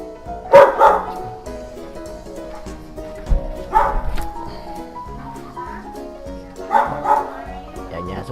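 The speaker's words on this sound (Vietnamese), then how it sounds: "Xung quanh này có nhiều chó quá, nhiều chó." Neighbours' dogs bark in three separate bursts around a Las Vegas house, the sharp yaps carrying from nearby with quieter pauses in between.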